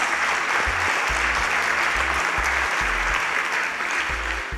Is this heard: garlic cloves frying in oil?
no